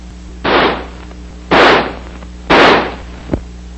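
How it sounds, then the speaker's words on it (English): An M16 rifle fires semi-automatically, three sharp separate shots about a second apart, each with a short decaying tail, followed by a faint click. "By closing the bolt and turning the selector lever to semi, the rifle will fire semi-automatically."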